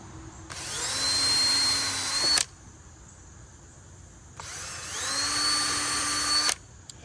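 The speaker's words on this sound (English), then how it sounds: "I'll pre-drill a couple of holes." Power drill pre-drilling holes for mounting a bird feeder, two close, loud whining bursts of about two seconds each, each rising to a steady high pitch and cutting off sharply, separated by a quiet pause.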